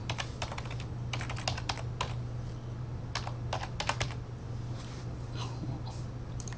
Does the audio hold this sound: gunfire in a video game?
no